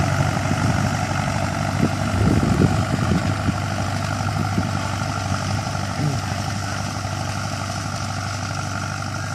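A Ford 6610 two-axle tractor engine runs steadily while plowing a rice field and building up a bund, a loud, constant low drone with a brief surge near the two-second mark.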